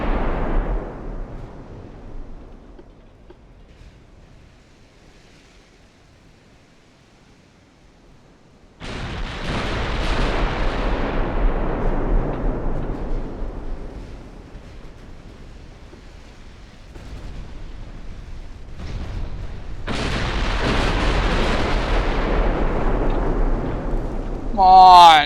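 Naval gunfire from the warship game Ultimate Admiral Dreadnoughts: heavy booming salvos with long rumbling decays, one after another across the stretch, loud and close, with a quiet lull between volleys.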